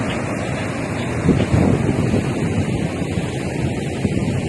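Ocean surf at a Yogyakarta seaside viewpoint, a steady broadband roar of waves mixed with heavy wind buffeting the microphone, with a slightly louder surge midway.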